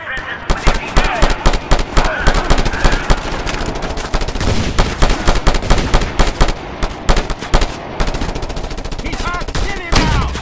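A mounted gun in the video game Just Cause 2 fires in long, loud bursts of rapid shots. The gunfire runs almost without a break, with brief voices under it.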